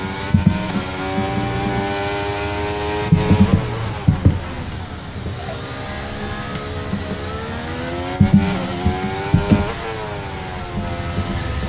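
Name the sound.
Mercedes Formula 1 car engine in video game F1 23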